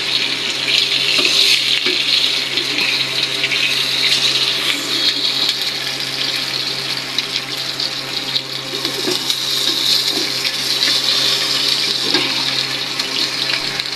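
Fish fries in oil in a pan, cooked until crisp, giving a continuous loud sizzling hiss that holds steady from start to finish.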